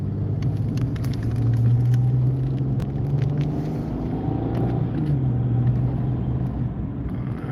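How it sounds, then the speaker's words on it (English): Cars rolling slowly along a road in the early morning, a low steady engine rumble with a faint droning tone rising and falling, heard from inside or close by with no one speaking. "These cars going slow."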